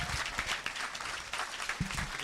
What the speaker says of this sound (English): How about a round of applause for Dope?